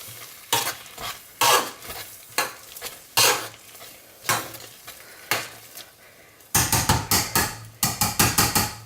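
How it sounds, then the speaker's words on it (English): A spoon scrapes and stirs through thick, hot coconut curd soap in a pot, giving rhythmic close scraping strokes that speed up into rapid repeated stirs near the end, with no voices. "because there's so much coconut, it gets hard even when it's hot. So there's a lot of stirring involved"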